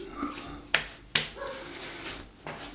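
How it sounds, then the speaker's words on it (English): A dog gives two short, sharp barks close by, followed by a softer third, with quiet rustling in between. "There's Riley barking."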